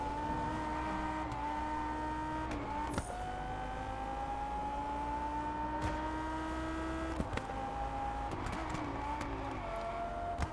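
Lotus Elise driving in the Test Drive Unlimited Solar Crown racing game, a steady engine drone with rising pitch through long gear pulls, a few sharp breaks at shifts, continuous and fairly loud with no talking.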